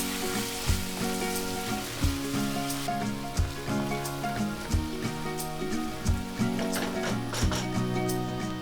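Soya chunk biryani being mixed in ghee in a pan, with a steady sizzle under regular rhythmic background music that stays fairly loud throughout.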